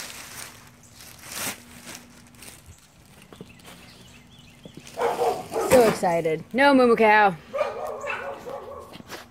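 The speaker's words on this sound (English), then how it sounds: "That's my dog" A dog barks and yips excitedly a few times close by, mixed with whining sounds, while a person speaks briefly.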